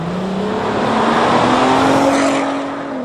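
A Volkswagen Golf 5 R32's six-cylinder engine with stock exhaust revs up smoothly and steadily, its pitch climbing as it accelerates, then easing off; a refined, moderately loud exhaust note.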